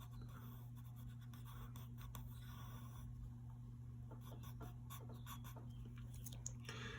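A pen moves across paper in a quiet, close series of short scratchy strokes and pauses, the faint sounds of drawing a cartoon character.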